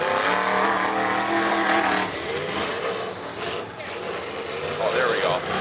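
A demolition derby car, number 88 in purple and white, runs its engine loudly at an outdoor arena event in Mobridge, South Dakota, with a sustained rough roar and a rise in revs near the end while an announcer talks over it.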